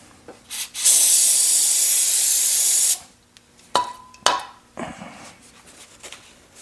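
Brake cleaner sprays onto front brake parts of a 2015 Toyota RAV4 Limited in a single loud two-second hiss, followed by a few close clinks and knocks of handled parts.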